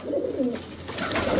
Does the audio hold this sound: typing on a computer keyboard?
no